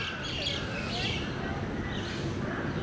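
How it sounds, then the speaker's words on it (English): Birds chirp and call in Lalbagh park in Bengaluru, scattered tweets over a dense outdoor background hum, with faint voices mixed in. "listening to the chirp of the birds, watching the squirrels scurry around"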